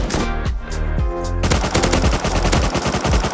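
Automatic gunfire in the video game Rust: a close, loud weapon firing in rapid bursts that merge into a continuous stream of cracking shots partway through.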